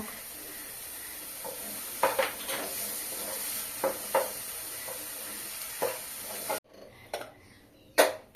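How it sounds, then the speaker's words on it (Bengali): Capsicum frying in a spiced masala (turmeric, cumin, chilli, coriander) in a pan, a steady sizzling hiss under intermittent scrapes and knocks of a stirring spoon, close up and with no talking. "মশলাটা ভালোভাবে কষানো হয়ে গেছে, আমি ক্যাপসিকাম গুলো দিয়ে দেব।"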